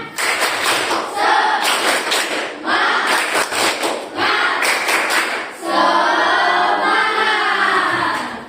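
Elementary school pupils in a classroom perform a rhythmic clapping chant, loud patterned bursts of claps separated by short pauses, followed by a stretch of children's voices chanting together near and clear.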